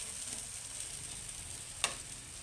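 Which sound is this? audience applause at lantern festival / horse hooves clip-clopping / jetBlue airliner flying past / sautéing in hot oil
sautéing in hot oil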